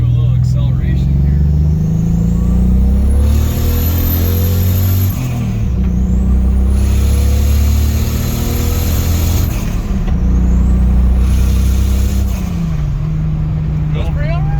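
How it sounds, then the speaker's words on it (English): An S52-swapped BMW E30 pulls through several gear-driven acceleration runs, its engine rising in pitch, dropping and climbing again across three surges, loud and close from inside, while people talk throughout. "We're gonna do a little acceleration here."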